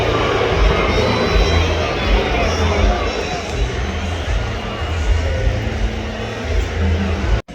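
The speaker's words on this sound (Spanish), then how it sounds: "en medio de un abucheo tremendo de la afición local" Home football crowd in a stadium booing the visiting team as it heads to the locker room, a loud sustained roar of many voices filling the whole stretch, broad and steady before an abrupt cutoff.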